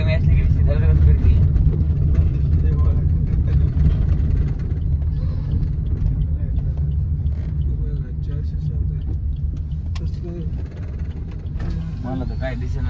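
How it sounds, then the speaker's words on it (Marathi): An empty Maruti Ertiga rumbles and rattles on the move, a constant low, heavy drone of road and engine noise, with voices talking over it. "इरटिकाच आहे गाडी भरली तर बरी नाही तर रिकामी असली की धडधडच करते"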